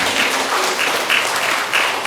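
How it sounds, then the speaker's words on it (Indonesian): Close, dense applause fills the room at the opening of a church-organised meeting in Palembang, a loud, even burst of many hands clapping without pause. "Tepuk tangan untuk tuan."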